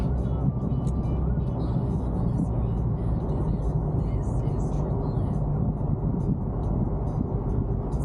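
A car on the drive from Hobart out to Richmond, Tasmania gives a steady loud road rumble and engine drone that carries on unbroken while people talk over it.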